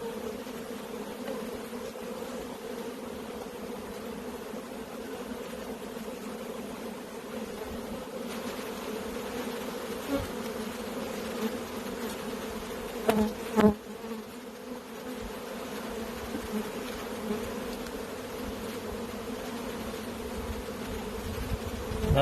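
Honey bees buzz around an open hive during brood frame work, a continuous close droning hum with a couple of brief louder passes near the middle, no voices.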